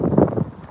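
Gusty wind buffets the microphone outdoors on a dog walk, a brief low rumbling rush that swells and fades within a second.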